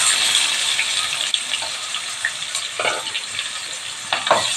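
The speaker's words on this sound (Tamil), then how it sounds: "இப்போ வெங்காயம் போட்டு நல்லா வதங்கட்டும்" Finely chopped onions, two of them, fry in a pan for a kovakkai gravy, giving a steady close sizzle with a few soft scraping stirs and no talking.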